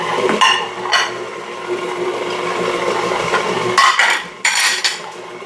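Jimmy Dean breakfast sausage mixed in a bowl, with clinking and scraping of a utensil against the bowl in several short bursts over a steady mixing rustle.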